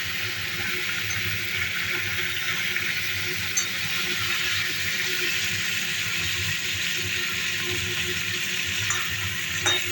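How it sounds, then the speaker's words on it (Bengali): Pieces of katla fish sizzle steadily in hot oil in a pan, a continuous close crackling hiss that runs evenly throughout with no voices. "এই যে একে একে মাছের পিসগুলো ভাজতে দিয়েছি"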